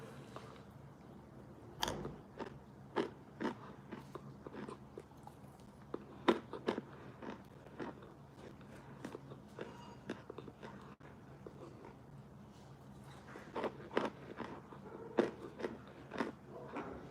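Crunchy cornstarch is bitten and chewed up close, with a sharp crunch followed by a long series of crisp, irregular chewing crackles. No one speaks.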